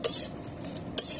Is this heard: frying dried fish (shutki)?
yes